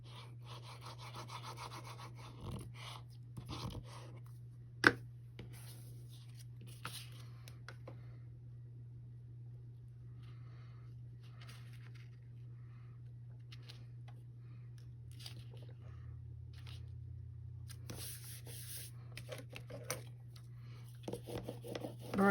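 A glued paper mat is burnished onto a craft box with quiet, intermittent rubbing strokes. A faint sharp tap breaks in here and there, all over a steady low background hum.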